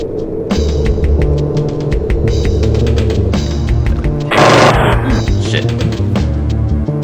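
Aircraft cannon fire in the flight combat game Fighters Anthology, a brief burst of rapid rattling shots around the middle of a steady engine hum and cockpit drone.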